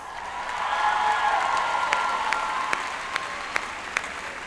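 Steady applause from a large commencement crowd honoring college faculty, a broad, moderately distant roar of clapping that swells and holds, with a handful of crisp nearby claps popping out above it.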